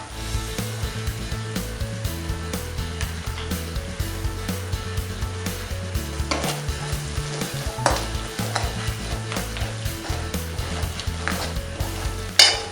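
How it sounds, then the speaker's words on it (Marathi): Koli masala and turmeric roasting in oil in a pan for a dry salted surmai fish curry, giving a steady close sizzle and frying hiss with stirring scrapes throughout, a tonal background bed beneath and a sharper clatter near the end. "कारण हा मसाला पूर्णपणे तेलामध्ये भाजला पाहिजे"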